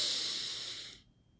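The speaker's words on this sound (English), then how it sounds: "First, take a deep inhale." A deep breath, heard as one long close airy rush that fades and stops after about a second, alone and fairly loud.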